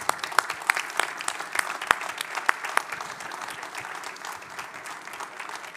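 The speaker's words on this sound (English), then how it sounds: "Give them a round of applause." Applause from an awards ceremony audience as winners come on stage: distinct sharp claps at first, settling into a moderate, gradually fading round of clapping.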